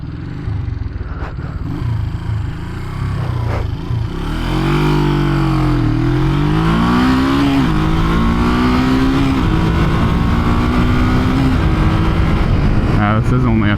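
A 1973 Honda CL350 motorcycle is ridden on a straight road, its engine revving up through the gears with rising and falling tones, loud and close over steady wind rush throughout.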